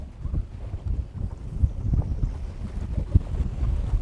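Wind buffeting the microphone on a fishing boat out on a lake, a continuous low rumbling gusty roar with irregular thumps, close and fairly loud, with no talking.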